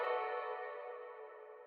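Two stretched, sustained guitar notes with the low end cut away ring with a delay, a thin, smeared tone fading slowly, alone and without voices.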